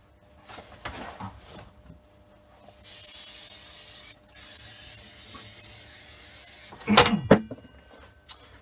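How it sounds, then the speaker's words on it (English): Two bursts of aerosol lubricant spray, the first long and steady for over a second, the second shorter, set between soft handling clatter and a sharper knock near the end. "Bit of lubricant."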